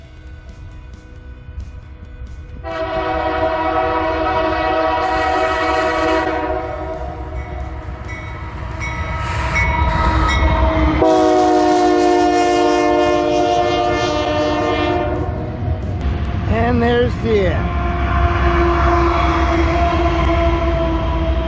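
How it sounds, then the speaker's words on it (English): A freight train rumbles past in the Sierras in snowy weather, its horn blaring in long sustained blasts over the steady roar of the cars, with a brief spoken remark near the end. "Here comes the choo-choo."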